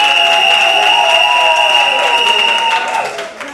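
An audience at a Christian worship gathering applauds and cheers loudly and continuously, with tonal voices ringing over the clapping before the sound fades toward the end.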